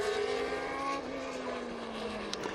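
Historic racing car engine, a Matchbox Bang & Olufsen-liveried Surtees, at a classic race meeting in Estoril, droning steadily at mid distance as its pitch slowly falls, the car running on track alone without any voices.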